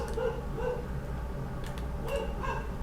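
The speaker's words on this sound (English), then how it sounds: "My dog is barking" A dog barks a few times in short bursts, faint and somewhat distant, over a steady background hum of game audio.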